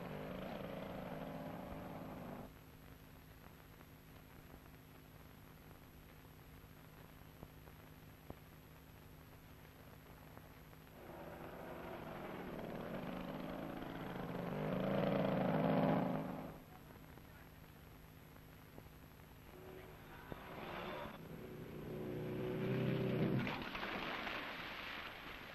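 A motorcycle engine on an old 1960s beginner's riding film soundtrack, a low steady drone that swells twice as it speeds up, with narration over it at times.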